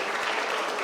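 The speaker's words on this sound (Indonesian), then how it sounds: "kita beri tepuk tangan buat Katon ya." A church youth service congregation breaks into a brief burst of dense applause, steady and fairly loud throughout with no talking.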